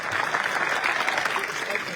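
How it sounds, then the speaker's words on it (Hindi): Villagers at an outdoor open-gym inauguration applaud together, a dense, steady wash of clapping that fills the whole moment at moderate loudness, with no distinct voices rising above it. "एक बार अपने लिए जोर से ताली बजाओ।"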